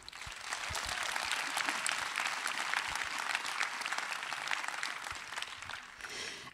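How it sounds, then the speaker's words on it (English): Crowd applause rises at the Wikimania 2024 closing ceremony for a Coolest Tool Award honoree, a continuous dense clapping from a large audience that holds steady for several seconds before tapering. "So clap your hands for them."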